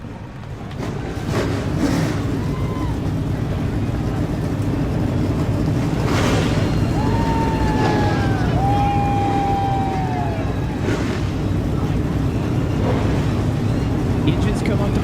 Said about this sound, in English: Engines come up to full song here at Talladega